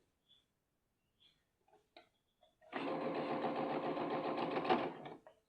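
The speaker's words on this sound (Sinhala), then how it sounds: "මේ විදිහට ලස්සනට ප්ලීට් ටික තියදී හද මහන්න" A sewing machine stitches pleats onto cloth. A few soft clicks and handling taps come first, then the machine runs in one steady, fast, whirring burst of about two seconds before slowing to a stop.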